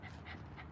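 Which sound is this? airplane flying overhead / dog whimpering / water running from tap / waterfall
dog whimpering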